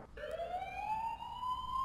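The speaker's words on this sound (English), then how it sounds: "Why is there an ambulance here?" A rising ambulance siren wail sounds in the horror video game The Coma: Cutting Class, one clear sweeping tone climbing in pitch, alone and fairly loud.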